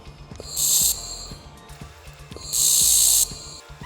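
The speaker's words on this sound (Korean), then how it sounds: "자, 바로 용접 시작하겠습니다." A laser welder joins stainless steel, giving two loud, steady bursts of bright hissing buzz, each under a second long, with a faint hum and light clicks between them.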